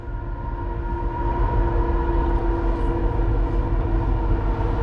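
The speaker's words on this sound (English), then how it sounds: "there's a train coming" Train rumbling past near a river at a steelhead fishing spot, a steady loud low roar with a sustained tonal hum throughout, no voices.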